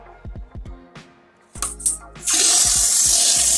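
Water sprays hard from a bidet fitted with a hot and cold mixing valve, rising to a loud steady rush after a few clicks and brief gurgles, close by with no talk.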